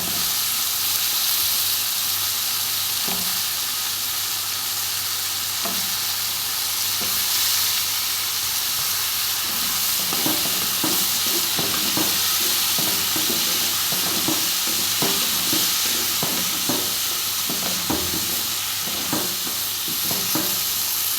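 Chopped brinjal and drumstick sauté in hot oil for a mochai bean brinjal kuzhambu, giving a steady loud sizzle and hiss with frequent scraping clicks of a spoon stirring the pan.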